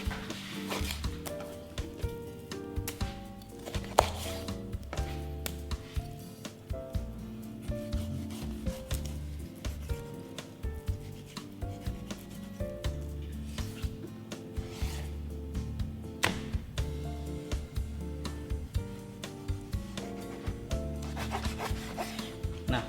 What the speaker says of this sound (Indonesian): saya potong perutnya